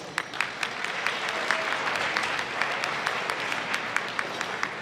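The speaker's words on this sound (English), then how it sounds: "How about a great round of applause?" An audience at an awards ceremony for the National Congress of Italian-Canadians applauds, a dense crowd clapping with a few sharper, distinct claps standing out near the microphone, continuing steadily throughout.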